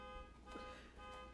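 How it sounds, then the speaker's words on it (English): A car alarm sounds outside, a steady electronic tone with buzzy harmonics pulsing faintly in the background of a quiet room. "Car alarm's going off."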